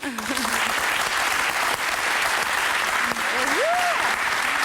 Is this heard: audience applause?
yes